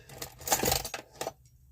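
Metal keys jingle and clink together in a brief bright flurry of overlapping taps before cutting to quiet, close and fairly clear with no talking.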